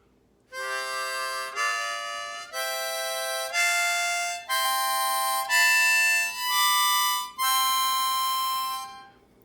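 Beginner harmonica playing on a C harmonica, sounding two notes at once, in eight sustained breathy chord-like tones, each held about a second with brief gaps, loud and close, alone without talk.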